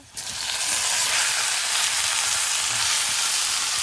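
Onion and forest flowers frying in a pan for curry, a loud dense sizzle that starts abruptly and holds steady throughout, close and alone with no talk.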